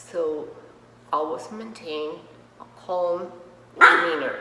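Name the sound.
dog barking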